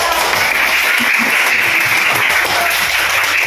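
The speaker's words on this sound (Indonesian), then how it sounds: "beri tepuk tangan untuk" Sustained applause from a classroom audience during a teacher training lesson, steady broadband clapping filling the whole stretch, close and fairly loud with no break.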